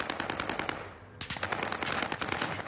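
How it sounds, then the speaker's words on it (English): Rapid automatic gunfire from a battle royale video game, a dense burst of repeated shots that pauses briefly and then resumes loud and sustained, with no talk over it. "He took a lot of shots."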